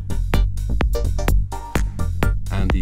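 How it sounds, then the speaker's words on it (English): A Go2 synthesizer runs its arpeggiator in chord mode, stepping through rhythmic chord stabs over a steady drum and bass groove, loud and upfront for a few seconds. "the sound you hear playing now is Go2, and it uses the ARP in chord mode"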